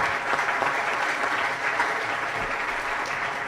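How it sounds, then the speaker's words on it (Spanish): An audience applauds the panelists at a cybersecurity forum, a dense, steady burst of clapping from many hands that fills the room without pause. "Un aplauso para los panelistas"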